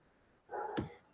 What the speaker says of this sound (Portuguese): Esse é um cachorro que tem aqui no bloco que fica ao lado